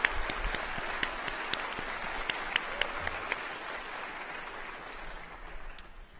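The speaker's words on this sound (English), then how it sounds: "We have a round of applause, please." Audience applause fills a hall at a university Encaenia graduation ceremony, steady, moderately loud clapping from a crowd that holds for several seconds and then thins and fades toward the end.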